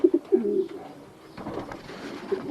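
Pigeons coo in an aviary, low throaty calls repeating at the start and again at the end over a soft background hiss of the loft.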